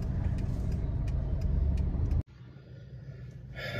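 A private car driving through town streets in PCMC, with steady road and engine noise from inside the cabin that cuts off abruptly partway through, then a quieter hum resumes.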